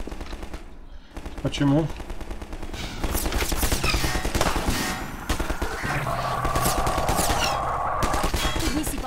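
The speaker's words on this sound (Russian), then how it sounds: "Улицу обстреливает снайпер." Sniper fire raking a street in Half-Life 2 Episode One: sharp gunshots crack over a steady stream of rapid automatic fire with ambient game noise, and a man asks a brief question partway through.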